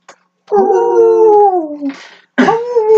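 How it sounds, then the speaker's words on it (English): A wolf-like howl sounds during a tabletop role-playing session set at night, a long sliding wail followed by a brief pause and a second rising howl, loud and clear with no talking. "And Twilight then hears like a howl."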